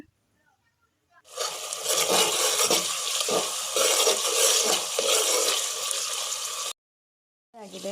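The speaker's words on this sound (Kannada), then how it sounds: "ಶುಂಠಿ ಬೆಳ್ಳುಳ್ಳಿ ಪೇಸ್ಟನ್ನು ನಾನು ಚೆನ್ನಾಗಿ ಫ್ರೈ ಮಾಡ್ಕೊಳ್ಬೇಕು" Ginger garlic paste sizzling in a pan while cooking chicken biryani, a steady, loud hiss that starts suddenly, holds for several seconds and then cuts off.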